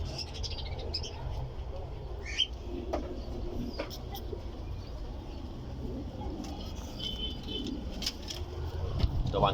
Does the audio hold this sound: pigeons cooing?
yes